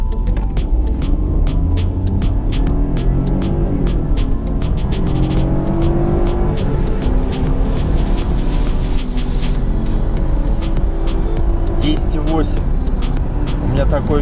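A BMW F30 318i with its 136 hp engine accelerates hard from 0 to 100 km/h in sport mode, producing a loud, steady engine roar whose pitch climbs and resets through gear changes for the whole stretch.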